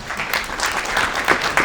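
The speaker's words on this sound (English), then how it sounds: "let's give them a round of applause" Brief burst of audience applause at a science education conference, a close, lively patter of many hands with a few sharper individual claps standing out.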